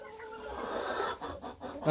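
Chickens cluck softly nearby, with a few short, throaty calls rising and falling against a quiet background.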